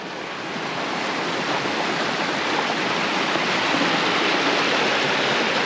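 Steady broadband rush of river water flowing on the flood tide at Bendricks Rock on the Bristol Channel, continuous and fairly loud with some wind, no voices.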